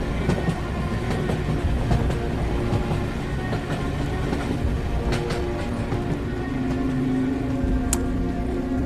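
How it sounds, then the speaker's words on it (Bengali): A night train rolls past on a rail line beside a dirt road, a steady loud rumble with rhythmic wheel clacks and occasional metallic squeals, continuous throughout. "রেল লাইন দিয়ে রাতের শেষ ট্রেন হর্ন দিতে দিতে চলে যায়"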